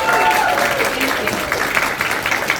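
Applause from an audience at an Anthrocon 2023 convention panel, a dense, close clapping crowd sustained throughout, with a voice speaking briefly over it at the start.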